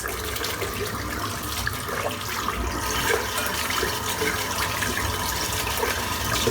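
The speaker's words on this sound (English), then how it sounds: "I'm just going to rinse the brush out" A shaving brush rinsed under a running bathroom tap, a steady close rush of water splashing and gurgling continuously throughout with no break, loud and alone.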